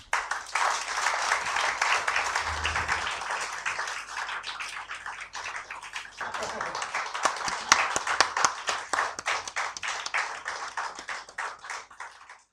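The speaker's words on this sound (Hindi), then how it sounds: "आप सभी की एक बार जोरदार तालियां।" Audience at a Hindu human rights report launch gives a long round of dense, steady clapping that fills the room, thinning toward the end into more distinct individual hand claps.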